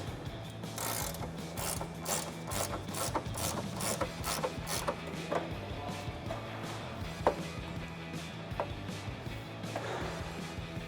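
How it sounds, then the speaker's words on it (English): An 18mm ratcheting wrench loosens the front bolt of a rear lower control arm on a 2005-2014 Ford Mustang, with rapid, close, rhythmic ratchet clicks in bursts and no talking. "Got an 18mm ratcheting wrench here. We're going to start off by removing the front bolt of the control arm."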